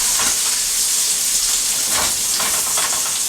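Chopped onions sizzling in a hot pan, a steady close frying hiss with faint crackles throughout and no talk.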